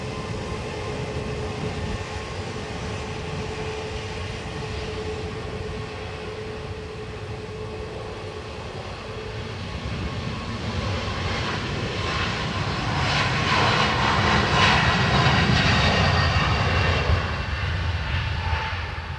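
An Air Transat airliner takes off from Dublin Airport, a broad jet engine roar that builds steadily to a loud peak before easing slightly, distant at first and drawing nearer, heard alone.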